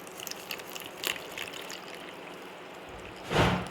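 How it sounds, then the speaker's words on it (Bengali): Water is poured into a bowl of cumin seeds, with light trickles and small splashes building to a fuller gush near the end, close by and with no talk. "দেখো আমি দিয়ে দিচ্ছি জল"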